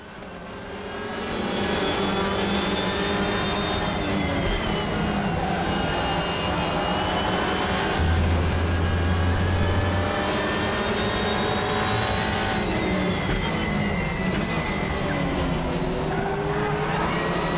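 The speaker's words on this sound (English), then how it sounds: "Who doesn't love the sound of a little 4-pot motor screaming its head off?" A high-revving four-cylinder WTCR touring car engine screams steadily and loudly, pitch climbing and dropping through gear changes, in the RaceRoom racing game.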